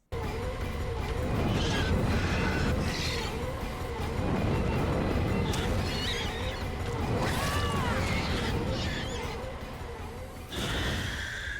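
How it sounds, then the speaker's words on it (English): Tense chase theme for the Xenomorph killer in the Dead by Daylight test build, with wavering, warbling pitched tones and pulsing low textures that play steadily and fairly loud, with scraping and mechanical accents. "The chase theme of the Xenomorph in the PTB was so horrible that it was changed on the live release"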